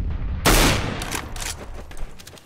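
Counter-Strike: Global Offensive firefight: a loud, sharp gunshot burst opens, followed by a rapid volley of further shots fading into scattered reports over a noisy game soundscape.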